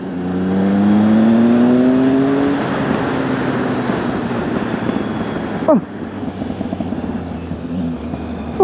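A Triumph Speed Triple ABS naked motorcycle revs hard close by, its exhaust note rising in pitch before dropping off into a rough idle, with a sharp pop or crackle near the end.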